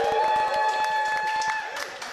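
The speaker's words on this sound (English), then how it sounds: "can we have a bit of a cheer from you lot?" Fans gathered in a studio room for an England World Cup match day raise a steady cheer and some clapping, a dense crowd noise holding at the same loudness for about two seconds.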